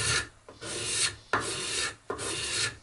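A card scraper smooths a shaped wooden table leg in a series of about four close, raspy strokes, each a bright scraping hiss separated by short pauses, with no talking.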